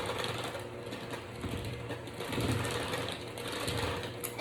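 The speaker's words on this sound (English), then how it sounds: "I'm going to add the melted butter, and I'm actually going to go ahead and kind of get started creaming it together." An electric mixer creams melted butter into stiff sugar cookie dough for candy cane cookies, a steady, close, whirring motor drone that swells slightly as the dough thickens.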